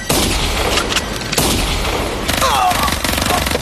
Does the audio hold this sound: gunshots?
yes